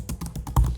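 Keys on a computer keyboard are typed in a quick, uneven run of close, clear clicks and taps, with one heavier keystroke near the end.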